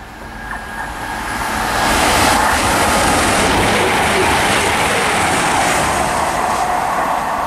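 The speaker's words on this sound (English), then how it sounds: "passing through there was 22012 on the East Midlands train service to Corby" East Midlands Railway service 22012 to Corby speeds through Harlington station on the Midland Main Line, a loud, steady roar of wheels on rail that swells over the first two seconds and holds close and strong throughout.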